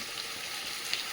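Papaya and potato frying in a pan after chopped onion, giving a steady, soft sizzle that stays even for the whole short stretch, with a faint scrape of stirring.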